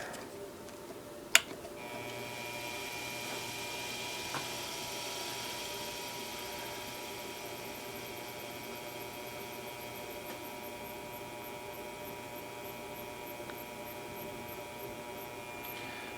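After a sharp click, a belt-driven spindle on a converted drive starts and runs in low gear with a faint, steady mechanical hum and light ticking that holds evenly throughout.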